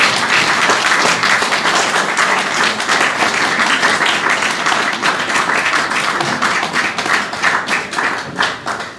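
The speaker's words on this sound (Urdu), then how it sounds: "تالیاں بجاتے رہے بھائی۔" An audience at a book inauguration event gives loud, sustained applause, dense clapping from many hands that fills the room and tapers slightly toward the end.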